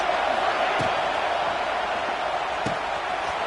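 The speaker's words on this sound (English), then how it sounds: "this crowd is at fever pitch" Stadium crowd in the NCAA 26 football video game during a third-down red zone play, a loud, continuous roar holding steady throughout with a couple of faint thuds beneath it and no talking.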